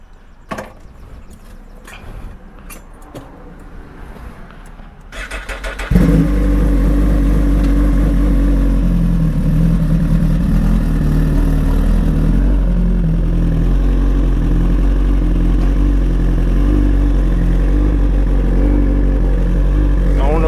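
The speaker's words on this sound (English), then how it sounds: "This is basically like a test drive on my new pipes." A 2021 Suzuki GSX-R1000R with a Brocks full exhaust starts up after a few seconds of handling noise, then runs with a loud, steady, close engine drone to the end.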